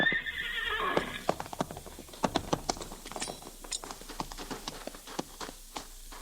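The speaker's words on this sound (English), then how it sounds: "He got on a horse and rode off." A horse whinnies loudly for about a second in a radio drama sound effect, then hooves clip-clop in a brisk, uneven rhythm, sharp and close, with no voices.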